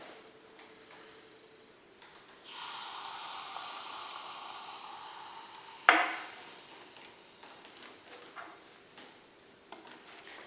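Chemical reactants mixed in a lab vessel for a Lavoisier mass-conservation demonstration, a steady fizzing hiss lasting a few seconds, then a sharp clack and a softer fading hiss, fairly quiet and close with no talk.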